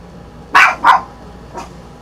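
A dog barks sharply twice in quick succession, close by, then gives a third fainter bark a moment later.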